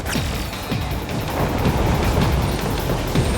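A train runs in Metal Gear Rising Revengeance, giving a steady loud rumble with rhythmic low clacks and thuds rolling throughout, and no voices.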